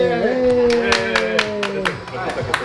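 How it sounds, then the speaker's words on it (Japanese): A handful of people clap at an opening party in Brazil for a professional racing driver, giving about nine loose, separate claps close by, under a voice speaking. "拍手。"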